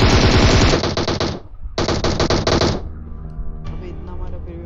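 Rapid automatic gunfire in a mobile shooting game, two loud sustained bursts of fast shots with a brief gap between them, followed by quieter scattered game sounds.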